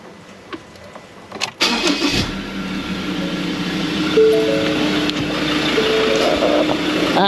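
A car engine cranks briefly, catches and starts after a secondary fuel filter and catch can install, then settles into a steady, fairly loud idle with no one talking.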